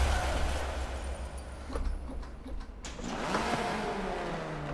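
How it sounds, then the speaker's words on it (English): A drift car's engine in Forza Motorsport 7 revs steadily and fairly quietly, the tone rising and falling through a few short throttle changes with no voices over it. "I do love the sound of this car."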